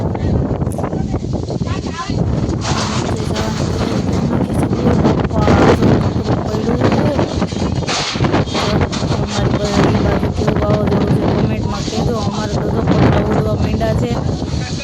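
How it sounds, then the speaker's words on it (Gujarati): Strong storm wind roars steadily into the microphone, a constant loud buffeting rumble with rustling, while voices talk faintly beneath it. "પવન ફૂલ આવે છે"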